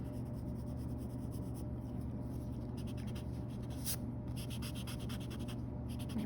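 Pencil eraser rubbing on paper while drawing a cat, quick repeated back-and-forth scrubbing strokes close up, rhythmic and soft, with brief pauses between bursts.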